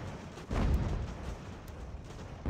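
Cannon fire from Ultimate General: American Revolution, a 1777 campaign battle, booms out as a deep rumbling blast that lingers, with another low thump at the end, no talking over it.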